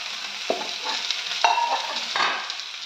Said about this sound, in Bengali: এবার টমেটোটা দিয়ে দেবো।